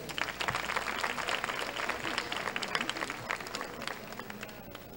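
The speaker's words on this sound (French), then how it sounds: "Je vous demande encore de les applaudir." An audience applauds young dancers from a dance school at a beauty pageant final, a steady, dense patter of clapping over a crowd murmur that carries on throughout.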